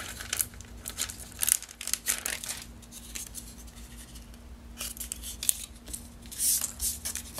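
Scissors trimming card stock for a paper craft kit, giving several crisp snipping and crinkling bursts at close range, separated by quiet pauses, with no talking.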